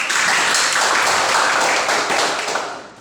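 Classroom of students applauding their teacher after a correct answer, a dense burst of many hands clapping at close range that fills the room steadily, then fades out near the end.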